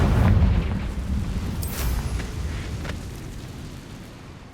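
A Confringo fire-blast spell is cast in the video game Hogwarts Legacy, giving a rumbling, booming burst that rolls on and slowly fades over several seconds.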